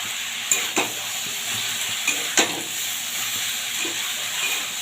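Fried cauliflower, potato and eggplant get stirred into a sizzling pan, a steady frying hiss broken by several sharp spatula scrapes and clacks, close and without talk.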